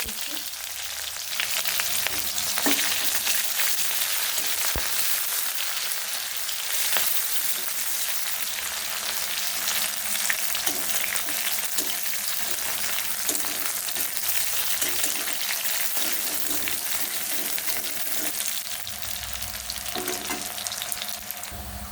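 Chopped onions with two bay leaves fry in oil, giving a dense, continuous sizzle that crackles and pops steadily from start to finish, close and fairly loud with no talking.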